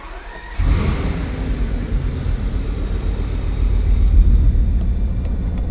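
A Bugatti Veyron engine catches and starts, jumping from near silence into a loud, steady, deep rumble that holds and swells slightly, heard close and alone.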